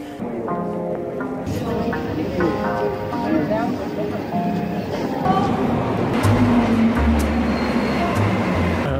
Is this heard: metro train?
yes